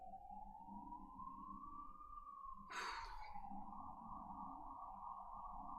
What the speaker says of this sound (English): There's an ambulance coming from my position right now.